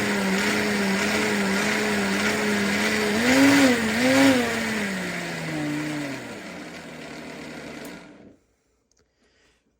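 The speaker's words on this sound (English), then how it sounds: "that seems like it blended pretty great" A PRASKY professional blender rated up to 2400 watts whirs loudly at a steady pitch, wavering and dipping as the load shifts, then cuts off abruptly to silence near the end.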